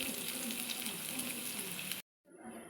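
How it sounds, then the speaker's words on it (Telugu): Onion and mustard seeds fry in oil in a pan with a steady, close sizzle that cuts out abruptly for a moment and then resumes more quietly. "కొంచెం ఆయిల్ వేసాను దీనిలోకి కొంచెం ఆవాలు వేసాను తర్వాత ఆనియన్ కూడా వేసేస్తున్నాను"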